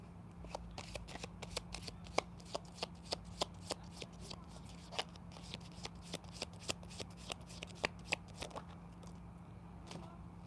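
A tarot deck is shuffled by hand in a quiet room, giving a long run of crisp, regular riffling snaps and card flicks, close and fairly soft, with no voices.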